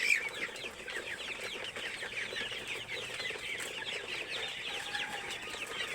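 Sonali-breed chickens cluck softly and continuously nearby, a faint busy murmur of hens with occasional rustling.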